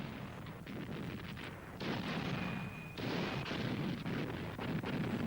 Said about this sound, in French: Le détachement de la division Viking d'Hummel fait mouvement et ouvre le feu sur une autre position soviétique à l'est de ses canons de 150 mm